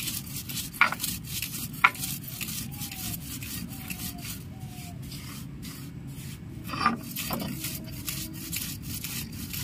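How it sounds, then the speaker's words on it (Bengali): Fried spices for dahi vada are ground by hand, making repeated rhythmic scraping and rubbing strokes, close and fairly loud, with occasional sharper knocks. "ভেজে রাখা মশলাগুলো আমি বেটে নিচ্ছি"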